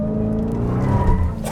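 A 2020 Dodge Charger Hellcat Widebody slides with loud, close tire squeal over a steady, deep engine drone that holds for the full moment.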